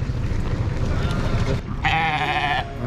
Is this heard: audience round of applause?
no